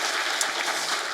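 Congregation applauding during a Sunday worship service in a Korean church, a dense, steady wash of many hands clapping at once, loud and even throughout with no voices standing out.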